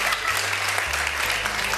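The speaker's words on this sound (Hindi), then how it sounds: "और जरा भरपूर तालियां बजाएं।" Studio audience applause at a televised Ramadan iftar quiz show in Pakistan, a brief dense burst of clapping with a low hum or voice faintly underneath.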